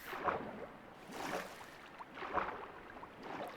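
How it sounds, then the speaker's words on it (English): Flowing water in the Minecraft video game, near a funnel and double chest setup, swells and recedes in soft, airy rushes, a quiet continuous wash with gentle surges about every second. "forgive the water noise"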